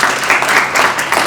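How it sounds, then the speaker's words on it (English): Audience at a Chicago home mortgage initiative launch event applauding, a dense burst of many hands clapping at close range with no speech over it. "Clap it up for yourselves."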